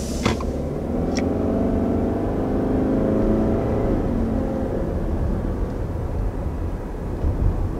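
A 2020 Subaru Outback with a CVT accelerates swiftly, a steady engine whir and road rumble holding throughout, rising slightly in pitch before levelling off, with a couple of brief clicks near the start.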